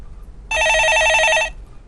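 A telephone rings for an incoming call in a Korean stock-market call-in broadcast, one loud, close electronic warble lasting about a second over a quiet background, with no talking.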